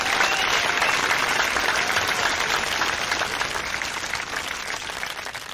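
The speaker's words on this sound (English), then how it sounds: "please give Phil Anderson a round of applause" A live campaign event crowd claps loudly for Phil Anderson, a thick, sustained wash of applause that fades slightly toward the end.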